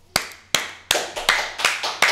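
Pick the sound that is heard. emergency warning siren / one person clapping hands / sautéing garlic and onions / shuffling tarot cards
one person clapping hands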